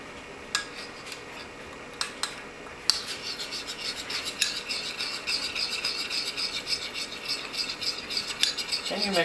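Seasoning being stirred into a lemon lime chicken marinade with powdered ginger, giving a steady scraping, rasping sound of utensil against bowl that grows busier and continuous after the first few seconds.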